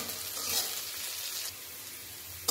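Chopped onion and garlic with a little salt frying in a pan give a steady, close sizzle and hiss with faint stirring scrapes, fairly quiet and continuous with no voices.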